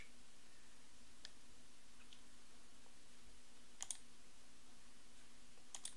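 A few faint, sharp computer mouse clicks, one single and a quick pair later, over a low steady room hum while selecting an image on screen.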